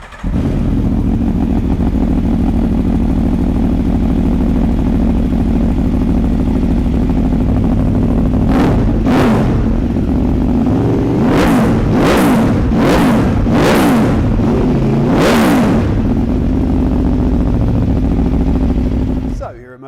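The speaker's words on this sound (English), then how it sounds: "So let's fire this one up and have a listen." An Aprilia Tuono V4 1100 Factory hyper naked motorcycle idles steadily up close, then barks through a handful of sharp throttle blips in quick succession before settling back to a loud, rumbling idle.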